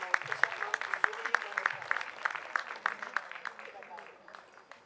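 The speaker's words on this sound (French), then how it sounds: "Je vous demande d'applaudir très chaleureusement nos très chers membres du jury." An audience applauds the jury members at a documentary film festival: a fairly quiet, scattered patter of hand claps with a few sharp individual claps, holding steady for about five seconds, with some murmuring voices underneath.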